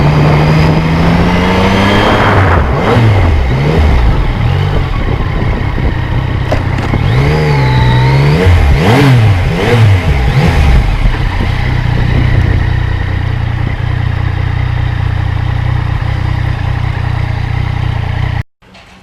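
A 2020 Yamaha MT-09 motorcycle engine runs loud and close for about eighteen seconds, its steady drone rising and falling through several revs before cutting off abruptly at the end.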